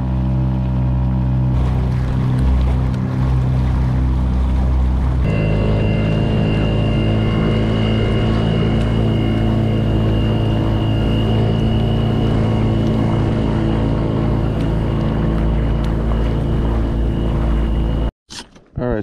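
A motorboat engine drones steadily while the hull thumps and slaps through choppy open sea off Jamaica, loud and continuous, with a brief dropout near the end.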